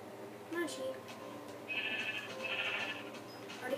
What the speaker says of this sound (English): Ooh, sheep, get down here